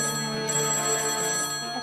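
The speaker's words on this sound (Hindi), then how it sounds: "ये फोन भी तेरी ताईडी की तरफ बजे जा रहा है" A telephone rings indoors in a home, a steady electronic ring at moderate volume with no voices.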